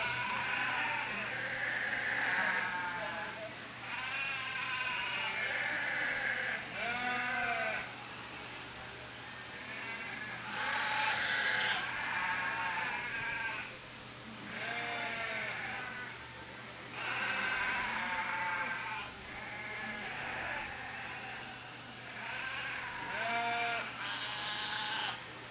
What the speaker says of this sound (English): This is out of Draft Horse, a ram they call Draft Horse.